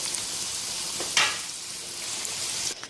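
Onions sizzle in hot oil in a pan as they fry toward golden brown for chicken korma. The broadband hiss is steady and close, with a brief louder crackle near the middle and no one speaking.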